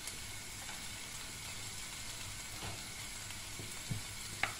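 Pasta sauce with salmon and broccoli sautéing in a pan, a steady, even sizzle and crackle with a few faint stirring clinks, no voices.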